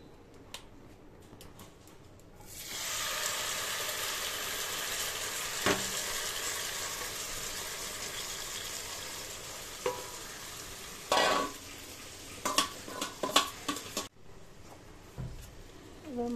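Puti fish hit a hot wok: after a quiet start, a sudden strong sizzle bursts out and holds steady for about eleven seconds. Sharp clicks and spatters pop through it before the hiss abruptly stops, with no talking.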